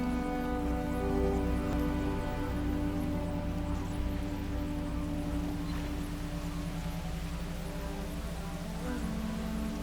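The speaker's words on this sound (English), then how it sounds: "And now it's raining." Steady rainfall in the video game Horizon Forbidden West, a continuous soft hiss of drops on surfaces over low ambient tones, even and unbroken throughout with no talking.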